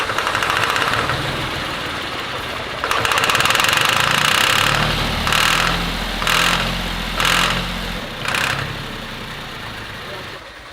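A small tractor engine runs with a rough, knocking idle, then picks up with several short, louder bursts as the throttle blips, close by.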